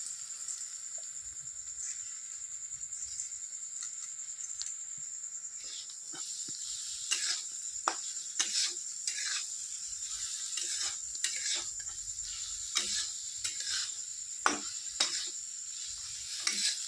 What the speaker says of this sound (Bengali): ডাল দিয়ে আমি ভালোভাবে কষিয়ে নিয়েছি